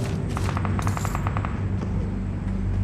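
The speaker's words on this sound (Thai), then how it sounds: "โหข้างนอกคือยิงกันแบบปักปูปักปูปัก" Automatic rifle fire in the mobile battle royale game PUBG Mobile, a rapid rattling burst of shots in the first half followed by more scattered shots over a loud game soundscape.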